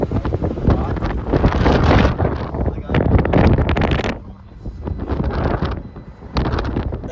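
Strong gusting wind buffets the microphone in loud roaring bursts that rise and fall, with a brief lull midway, on a blustery day at a racetrack in Almeria, Spain.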